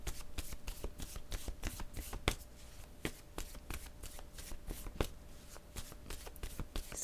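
Tarot cards are shuffled close up in a quiet room, a run of soft riffling flutters and crisp taps repeating in quick irregular bursts.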